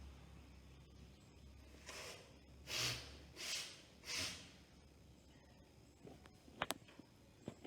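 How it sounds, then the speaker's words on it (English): Four forceful nasal blows in a steady rhythm, close up, followed by a few soft clicks and rustles. "you can blow your nose."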